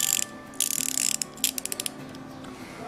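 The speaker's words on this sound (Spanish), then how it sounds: "Esta sería la carraca, ¿vale? Igual que la otra, pero en chiquitín, con la llave de giro y demás. Y así sonarían los 72 dientes." Quarter-inch 72-tooth ratchet wrench clicking, fast rapid clicks in short runs, close and crisp, with no voices.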